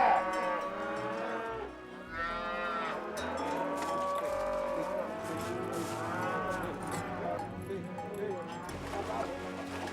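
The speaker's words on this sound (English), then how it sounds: "The herd has not yet been totally assembled." A herd of cattle gathered at a New Caledonia cattle station moos repeatedly, several drawn-out calls overlapping at moderate distance, with people talking throughout.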